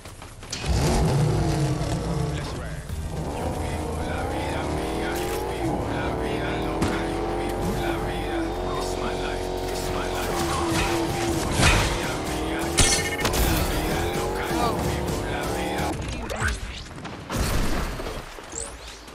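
A car driven in the video game Fortnite revs and accelerates with engine tones rising and falling, loud and continuous, with a brief tire squeal, while players talk over it.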